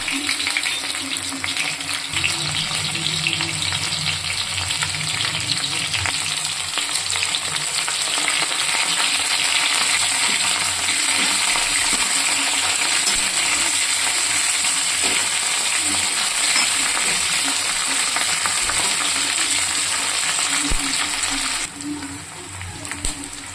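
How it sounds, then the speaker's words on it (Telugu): Mustard seeds, curry leaves and onion fry in four tablespoons of oil in a kadai for an Andhra-style fish curry, a steady close hiss of sizzling that runs on and then drops away near the end. "బాండీ పెట్టుకొని ఫోర్ టేబుల్స్ ఆయిల్ వేసుకున్నాను అందులో ఆవాలు ఆవాలు వేగనిచ్చాక కరివేపాకు ఆనియన్ వేసుకున్నాను"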